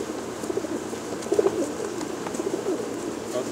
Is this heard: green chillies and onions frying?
no